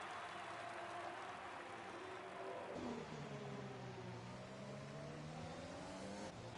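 F1 race cars in the F1 2020 video game at the Netherlands round, engines screaming loudly and continuously, with a gear shift and several rising whines layered as cars jostle for position.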